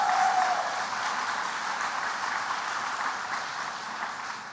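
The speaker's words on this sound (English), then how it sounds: "Let's give her a round of applause." Audience at a government announcement event applauds steadily, a broad even clatter of many hands that holds for several seconds and slowly eases.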